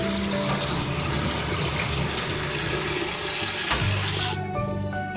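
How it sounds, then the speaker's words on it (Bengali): Fresh chhana cheese soaking in cold water in a bowl: continuous close splashing and pouring of water, steady throughout with a slight gurgling shift near the end. "ঠান্ডা পানি দিয়ে বেশ কিছুক্ষণ এটাকে ভিজিয়ে নিতে হবে যেন গরমের ভাবটুকু না থাকে।"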